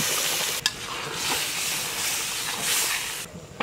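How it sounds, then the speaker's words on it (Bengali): Dal lentils poured into a hot pan, giving a steady close sizzle and hiss of frying that runs for the whole moment, broken by a couple of brief clatters. "এবারে আমি ডালটা ঢেলে দিচ্ছি।"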